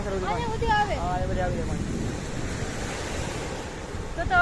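Sea surf washing ashore with a steady rushing roar, broad and continuous, with brief voices calling at the start and again at the end.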